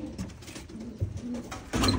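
A racing pigeon gives soft, low coos up close, a few brief murmuring calls spread over two seconds with a fuller coo at the end.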